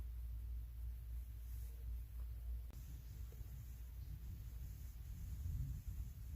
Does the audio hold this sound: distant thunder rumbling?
yes